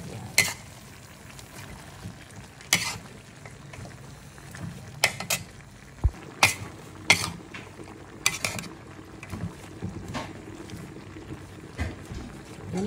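String beans (sitaw) being stirred in a cooking pan for ginataang sitaw, with a steady low sizzle broken by scattered sharp scrapes and clinks of the utensil against the pan.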